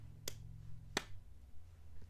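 Two sharp, isolated claps or snaps ring out about two-thirds of a second apart, crisp and close against a quiet background.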